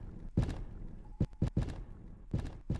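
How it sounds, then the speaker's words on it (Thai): Heavy, slow footsteps from an unseen creature thud in irregular pairs through a basement in a horror game, muffled and moderately close with no talking. "เสียงตัวใครเดินวะ"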